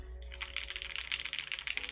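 Rapid clacking of keystrokes on a custom Bluetooth hotswap mechanical keyboard, a dense close-up flurry of crisp clicks filling the whole stretch with no voices.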